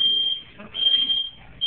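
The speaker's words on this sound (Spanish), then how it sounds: "Ya saben que esa alarma suena" A high-pitched electronic alarm tone sounds steadily, briefly dipping and returning, with faint murmuring underneath.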